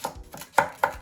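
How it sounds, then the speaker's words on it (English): A knife cutting burdock into small strips, three or four crisp thuds against a cutting board spaced evenly, close up with no voices. "Just like the burdock, I'm gonna cut into these small strips."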